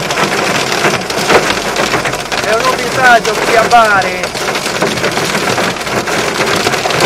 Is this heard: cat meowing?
no